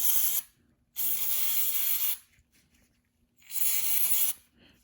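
Three long bursts of aerosol cleaner hiss into an Infiniti mass airflow sensor, each lasting about a second or more, separated by short silences, loud and close.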